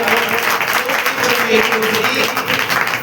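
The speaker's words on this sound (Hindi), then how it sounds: "आप तालियां बजाकर परमेश्वर का धन्यवाद करते हो।" Dense, steady applause from a church congregation at a Resurrection Day service, continuous and fairly loud throughout with a busy room tone beneath.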